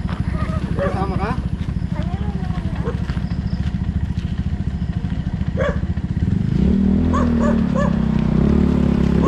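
Puppies yip and bark in short bursts near a road on a hill, over the steady rumble of a nearby motorcycle engine, with people talking throughout.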